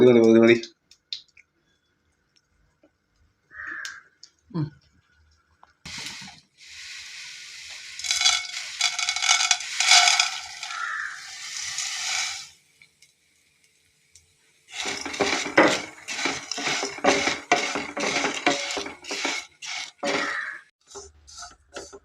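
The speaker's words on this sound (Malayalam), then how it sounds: "ചട്ടി അടപ്പത്ത് വെച്ച് ഒന്ന് ചൂടാക്കുമ്പോൾ അതിനകത്തേക്ക് അല്പം നെയ്യ് ഒഴിച്ച് ഈ സേമിയ ഒന്ന് വറുത്തെടുക്കണം" A spoon scrapes and clicks rhythmically against a pan as vermicelli roasts in ghee with a soft sizzle, in two long bursts separated by quiet pauses.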